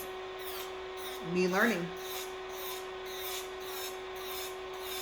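An electric nail drill (UV 901 machine) files fingernails with a thin, steady motor whine throughout, rising briefly in pitch and grit midway as the bit bites, while someone talks over it.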